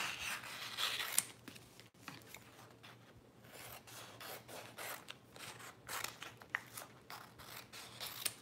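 Scissors trim cut sign vinyl names in a quiet room, giving soft, close snipping and rasping rubs in an irregular rhythm, faint overall with brief louder cuts.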